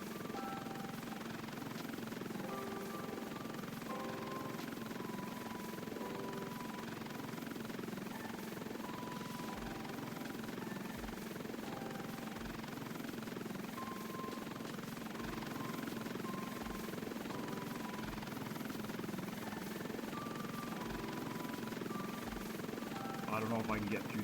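A helicopter in a Roblox game, its steady rotor thrum and engine whine droning continuously at a constant level throughout, with no break.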